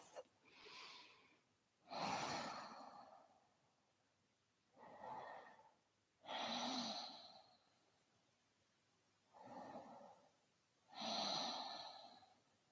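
Deep, slow yoga breaths in a guided session with arms raised overhead: six long breath sounds, each inhale and exhale clearly separated by pauses, close and fairly soft, no talking.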